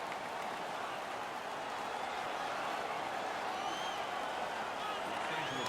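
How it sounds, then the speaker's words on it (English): Ice hockey arena crowd in the NHL 17 video game cheering after a fight, a dense steady roar of applause and noise that holds at an even level throughout, with a faint commentary voice mixed in. "The home crowd is ecstatic."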